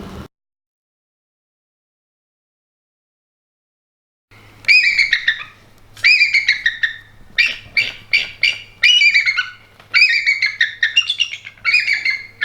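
Birds at the Audubon Center for Birds of Prey give repeated loud, close bursts of harsh chirping calls in quick series after a few seconds of silence, over a low steady hum.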